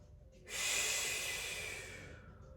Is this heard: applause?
no